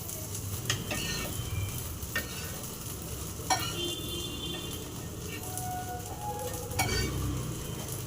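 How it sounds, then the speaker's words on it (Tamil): Large brinjal slices fry in a pan of oil with curry leaves, giving a steady close sizzle broken by a few sharp clinks and scrapes of a stirring utensil against the pan. "நல்லா ஃப்ரை ஆகிட்டுருக்கு"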